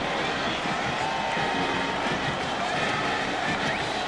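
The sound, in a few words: crowd applause after extra point at football game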